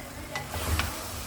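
Okra goes into sizzling fried masala in a pan for chicken bhindi, giving soft frying hiss with a couple of light stirring clinks, fairly quiet and close, with no talk.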